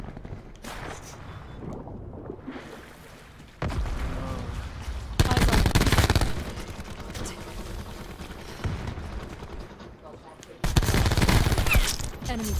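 Bursts of gunfire from a gun in Black Ops 4, with loud sustained volleys around the middle and again near the end, mixed with game sounds and someone talking over it.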